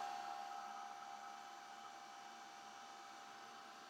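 A heat tool dries ink on metal, blowing a steady, close, even whoosh with a constant high whine that holds for the whole stretch, slightly louder at the start.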